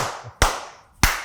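Two sharp, loud hand claps about half a second apart, swatting mosquitoes indoors during a podcast, each a crisp single smack with a quick decay, with faint low murmur between.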